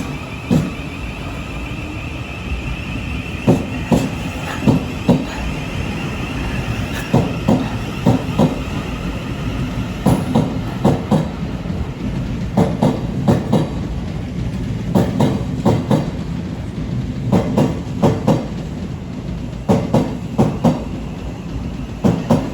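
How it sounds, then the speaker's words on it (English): A Thameslink train pulls out of a London terminus, wheels clicking over rail joints in repeated clusters under a steady rolling rumble and a faint high electrical whine. "Now heading off 4 minutes late will be the 10:14 Thameslink service to Three Bridges"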